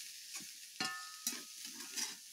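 Food cooks on a clay stove with a soft, steady sizzle and a few quiet stirring scrapes and knocks, heard close up in a quiet setting.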